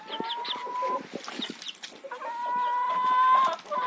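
Hens clucking inside a backyard chicken coop, with several birds making short overlapping clucks and longer drawn-out calls close by, loud and continuous with no talk.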